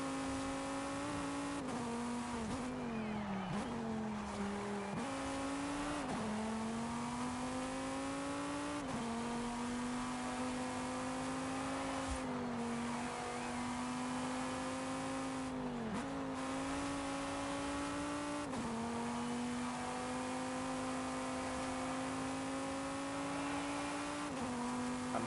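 A racing car engine in a driving video game drones steadily throughout, its pitch rising and falling through repeated gear shifts and revs, loud and continuous with no talk over it.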